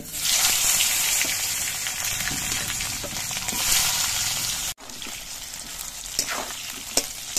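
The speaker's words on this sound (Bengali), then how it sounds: "এবার আলুগুলো কিন্তু কিছুক্ষণ ভেজে নিতে হবে।" Oil sizzles loudly and steadily as potato pieces fry for a fish recipe, with occasional stirring clatter and a brief break midway.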